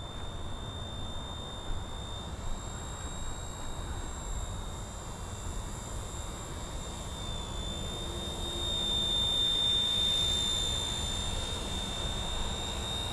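An RTR Hobby Jet Ranger RC helicopter comes in to land on a runway, its steady whining rotor and motor drone holding at a constant distance with a high tonal whine, swelling slightly louder near the end.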